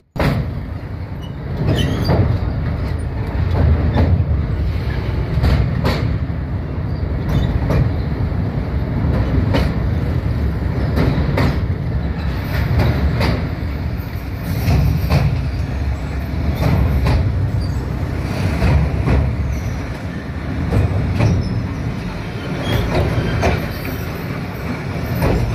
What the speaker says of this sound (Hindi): मेहरान ब्रिज से गुजरती ये ट्रेन